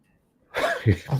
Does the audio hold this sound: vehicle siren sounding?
no